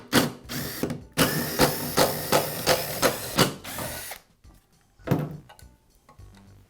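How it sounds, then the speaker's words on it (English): Repeated metallic ticking and clicking as screws are backed out of the cutter head blade clamping bars on a DeWalt planer, rhythmic bursts close by with brief pauses. "I'll remove all of the screws."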